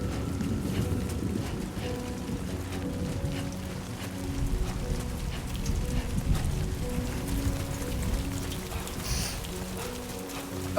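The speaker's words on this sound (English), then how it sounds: "Rain. Gotta move." Rain falls in the video game Death Stranding 2, a steady, soft hiss that continues without a break under a low, droning game soundtrack.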